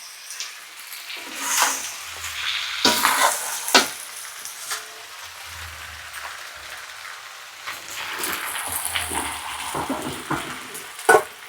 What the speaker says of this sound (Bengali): কি গো, মাংস কষানো কত দূর